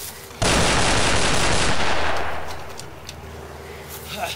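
Heavy gunfire sound effects from a war movie trailer, a sudden loud burst of rapid continuous shots that blasts for about two seconds and then fades into a lingering rumble.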